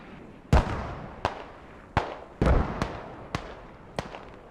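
Mortar rounds exploding in the Squad video game, seven or so sharp booming impacts at irregular intervals, some near and heavy, others more distant, over a low rumbling battlefield bed.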